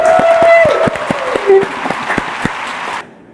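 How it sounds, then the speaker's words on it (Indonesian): A small studio audience claps briefly for guests on an RRI Kendari radio podcast, the rapid claps close and fairly loud with voices talking over them before the clapping stops abruptly. "Kita tepuk tangan dong."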